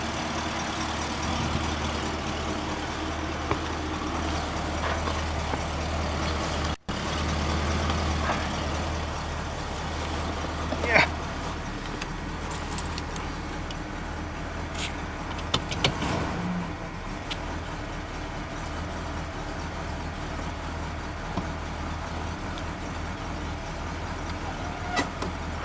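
A 1977 Ford car with a freshly swapped free-flowing exhaust idles steadily and then pulls away, a low constant engine drone with a few small clicks and knocks, no voices.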